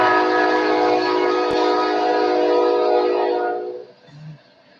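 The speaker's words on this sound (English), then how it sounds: "Kansas City Southern Railroad's coming down the track," A loud eastbound Kansas City Southern freight train rumbles past with a long, sustained horn blast that fades out near the end, followed by a brief fainter tone.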